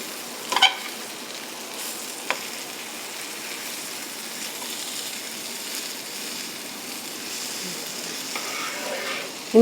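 Mackerel fish frying in coconut oil in a small pan, a continuous close sizzle with a few sharp clatters of a utensil against the pan near the start and at the end, no talking.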